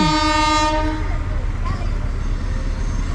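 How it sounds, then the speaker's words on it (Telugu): A loud train horn blares at the start and fades, followed by the heavy low rumble of a train rolling past close by at a level crossing. "గేట్లు అయితే వేసేసినారు ఎందుకంటే ట్రైన్ వస్తుంది"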